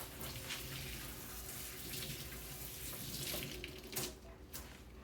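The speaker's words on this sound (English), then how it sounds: "Go ahead and rinse this off." A Ninja Foodi Smart XL grill part rinsed under a running faucet after cleaning grease, giving a steady close hiss of water with brief louder splashes near the end.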